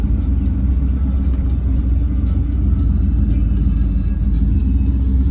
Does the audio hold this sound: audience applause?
no